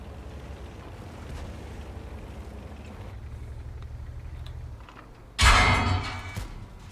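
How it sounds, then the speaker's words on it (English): A high-explosive shell fired at a tank in a war video game bursts as a single loud, booming blast with a short rumbling tail, after a stretch of steady low engine drone. "He fired HE at me."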